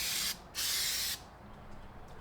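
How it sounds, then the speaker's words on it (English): Super glue activator sprays onto blue tape in two short bursts from an aerosol can, a close hiss lasting about a quarter second and then over half a second, followed by quiet. "and you spray some activator"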